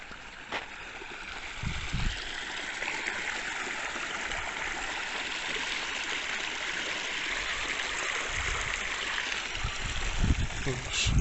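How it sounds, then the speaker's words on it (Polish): Water rushes and gurgles steadily where a small stream pours into the Bydgoszcz Canal in Poland, a continuous outdoor flow with a few faint low bumps. "Znalazłem ujście strumyka do kanału bydgoskiego."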